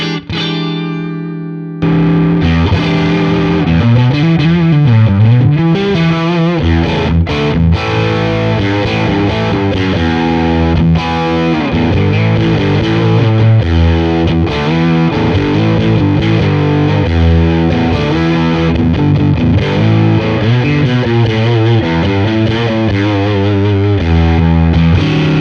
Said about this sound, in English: Let's hear the hotcake and what I've set it up to do